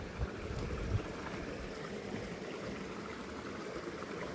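Channeled water flows steadily outdoors, a soft continuous rushing wash with low rumble, moderately near and even throughout, with no talking.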